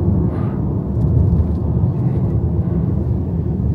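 A ZEEKR 7X RWD Long Range electric car accelerates, its cabin filled with a steady, loud low road rumble and tire roar and no distinct motor whine, with no speech.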